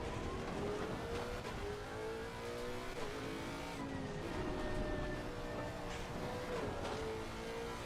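A Lexus race car engine in the racing game ACC revs and shifts continuously, its pitch climbing and dropping through gears, loud and close with no voices.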